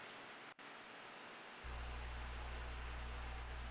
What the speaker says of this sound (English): I'm going to be testing RTX voice with a fan on in the background